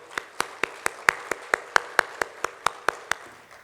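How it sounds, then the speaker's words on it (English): Steady, evenly spaced clapping at an investment and real estate summit, about sixteen crisp claps in under four seconds, sounding like a single pair of hands close to the microphone rather than a full crowd. "with big round of applause, please join me in welcoming Mr."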